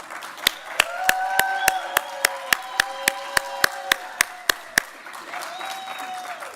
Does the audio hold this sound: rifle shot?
no